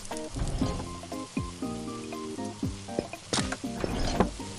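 Cooking in a pot in a video game: a bubbling, sizzling bed runs under playful synthesized musical blips and sliding tones, with no talk.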